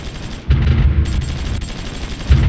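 Artillery bombardment in Supreme Ruler Ultimate, with 75mm guns booming in heavy rumbling blasts, a loud one at the start and another near the end, over a continuous low roar.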